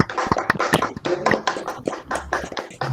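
Applause for a professor at an online academic colloquium, picked up through several open microphones: scattered, uneven hand claps sound close and slightly harsh, overlapping in a short irregular patter.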